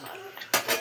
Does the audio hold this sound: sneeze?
no